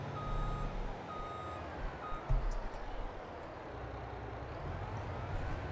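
A tractor backing up in the video game Farming Simulator 22 gives off a faint, steady series of reversing beeps over a constant low engine rumble and broad background noise.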